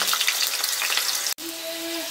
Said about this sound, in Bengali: তেলটা গরম হয়ে গেলে যে আলুগুলো কেটে রাখা হয়েছিল সেগুলো ভালো করে লাল লাল করে ভেজে নিতে হবে।